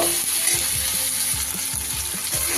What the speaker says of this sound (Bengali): খুব ভালো করে এবার সব কিছু একটু কষে নেব